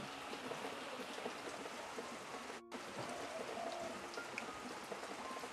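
Rain falls steadily in a village, a dense even hiss and patter of drops on surfaces that goes on the whole time, with a brief break partway through and no talk.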